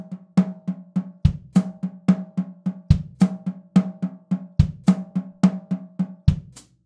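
Drum kit sticking pattern of right, left, right, left, left with a kick drum, a linear phrase played as repeating snare strokes punctuated by deep kick thumps, close and evenly paced, with no talking.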